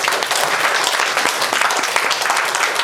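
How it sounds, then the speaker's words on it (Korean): Audience at a film screening Q&A with the director applauding, a brief burst of dense, lively clapping from many hands, close and steady without voices. "40년의 저력을 감독님께서 직접 얘기해 주셨는데 박수 한번 부탁드릴게요"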